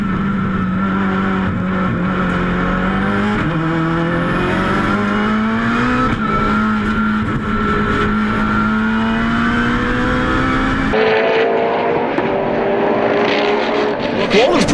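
A Mitsubishi Evo time-attack race car screams at high revs on a flying lap at World Time Attack Challenge 2014, sounding slightly off, in a steady rising pitch, shifting gears a few times before dropping to a rougher, lower note near the end.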